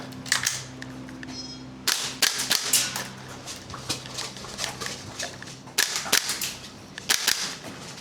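Toxicant MWS MCX airsoft replica rifle firing quickly, sharp snapping shots in clustered bursts with short pauses, loud and close and without speech.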